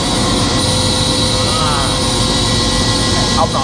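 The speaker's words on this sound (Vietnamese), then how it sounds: "Đây là nguyên cái trực thăng." A helicopter in flight over New York, heard from inside: a loud, steady engine and rotor drone fills the whole clip, close and constant, with faint voices partly under it.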